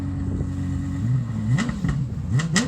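A Lexus LFA engine idles with a low steady hum, then blips the throttle in several sharp revs that rise and fall quickly, each rev loud and close, with the last ones coming in rapid succession.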